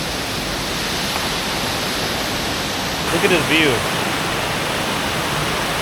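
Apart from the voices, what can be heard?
Furongzhen waterfall in Furong Ancient Town, China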